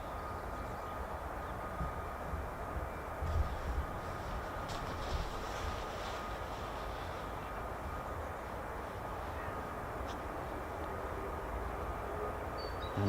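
A US Air Force fighter jet at an RAF fighter base spools up somewhere in the distance, a steady dense engine roar with faint whining layers that stays broadly even throughout, with no voices.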